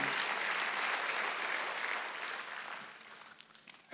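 A church congregation at a Wednesday worship service claps together in a steady, dense wash of applause that fades gradually toward the end.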